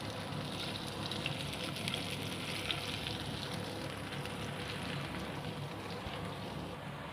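Crispy poha tikki shallow-frying in a pan, a constant even sizzle and crackle of hot oil that holds steady throughout with no voices.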